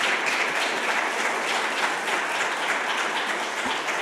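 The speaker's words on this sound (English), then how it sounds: "give a round of applause and a special gratitude to Satan." An audience at a welcome session for a conference on Indian Ocean mobilities gives a round of applause, dense continuous clapping from many people holding steady for the whole stretch with no talk.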